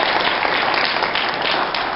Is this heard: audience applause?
yes